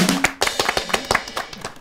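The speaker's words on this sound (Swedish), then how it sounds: "En applåd om Robert är rolig" A small audience claps for Robert at a Swedish student TV show, with scattered, uneven claps coming close and fairly quiet in a brief ragged burst.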